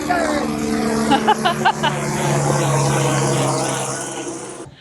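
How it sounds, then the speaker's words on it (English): A helicopter drones overhead with a steady low thrum and broadband rush while a person talks briefly over it. "Helicopters."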